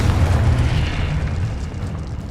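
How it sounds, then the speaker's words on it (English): Confringo spell blast in Hogwarts Legacy, a loud, dense rumbling explosion with deep booming low end that holds steady then slowly tails off, no talk over it. "Confringo!"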